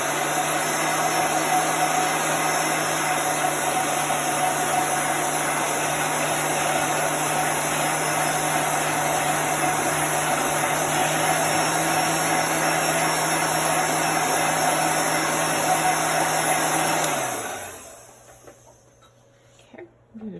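A heat tool blows steadily to dry chalk paste on a craft project, a constant loud whirring hum that runs unbroken for about seventeen seconds, then cuts off and winds down into near silence.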